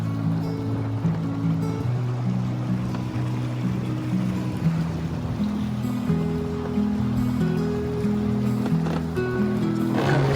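Electric ePropulsion outboard motor running on a lake on a breezy day, a steady low hum with water lapping against the hull, continuous and close throughout with no talking.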